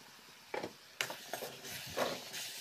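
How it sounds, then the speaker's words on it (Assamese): A spatula stirs spinach and tomato in a pan, giving a series of soft scraping and rubbing strokes in an irregular rhythm, with a light sizzle, quiet and close. "হেতাখনেৰে মই ভালদৰে লৰাই আছোঁ"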